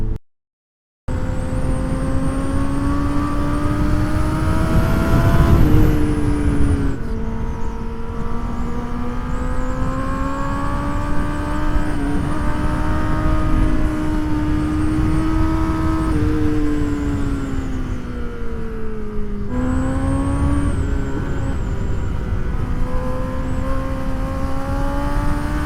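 A superbike engine drones loudly and steadily while leaning through corners on a road in India, its pitch rising and falling with throttle changes, heard close up under wind rush for the whole stretch.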